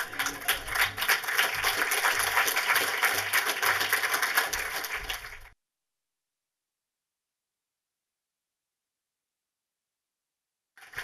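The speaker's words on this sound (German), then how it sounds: "Ihr Applaus, Frau Riemann." Dense, even applause from a theatre audience for actress Katja Riemann at a film talk fills the first half, then cuts off abruptly into silence.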